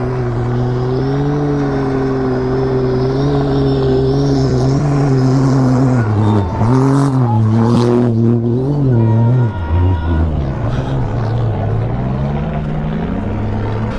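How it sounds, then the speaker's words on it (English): A Dakar Rally race car's engine runs far off in the desert, a steady layered drone that rises and wavers in pitch around the middle, then settles back to a continuous hum with no talk. "from the sound and dust you can see that the first car just started, but it's very, very far away from me."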